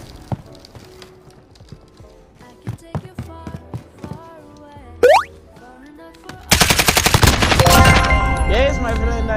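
Shotgun gunfire in Call of Duty: Modern Warfare, heard as scattered sharp game shots and effects early on, then a loud dense burst of rapid firing filling the final three seconds, with no talk.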